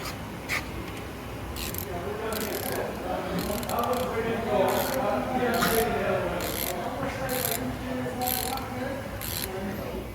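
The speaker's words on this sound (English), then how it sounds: "Grab a ratchet." A ratchet wrench clicks in quick, regular bursts during a brake service, each turn giving a close, crisp run of pawl ticks, with someone talking alongside.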